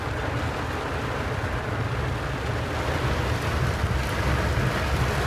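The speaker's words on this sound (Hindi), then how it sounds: "वीआईपी किस्म की बारिश हो रही है, ज़बरदस्त बेहतरीन" Heavy rain pours in a dense, constant hiss, close and loud without pause, with a faint wind-like rumble underneath and no voices.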